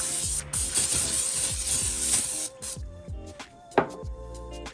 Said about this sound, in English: Okay, guys, so I'm just spraying my glass dish out a little bit here, okay?